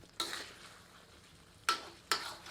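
A spoon stirs Guntur-style chicken masala with about a cup of hot water in a pan, giving three short, close scraping swishes with quiet gaps between them.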